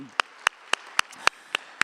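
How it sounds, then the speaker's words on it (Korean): A church congregation claps in steady unison, seven sharp, evenly spaced claps about a quarter second apart, with no voices over them. "우리 좋으신 하나님께 영광 박수 올려드리겠습니다"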